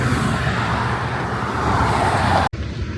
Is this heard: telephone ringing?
no